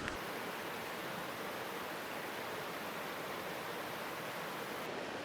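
A river rushes steadily through the mountains of Berchtesgaden, a dense, even roar of moving water that holds at a constant loud level throughout with no voices.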